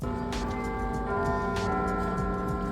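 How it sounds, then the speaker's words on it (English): Big Ben's bells chime from the clock tower in London, a sustained ringing tone with repeated strikes that hangs over steady outdoor city ambience. "a nice little clip of Big Ben chiming their bells ready for the end of the day"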